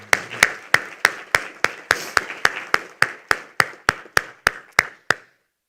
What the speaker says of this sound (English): Can I have a round of applause for the panel?